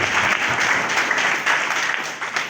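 A church congregation claps steadily and continuously, a dense close wash of applause that swells and eases slightly without pause, filling the room throughout.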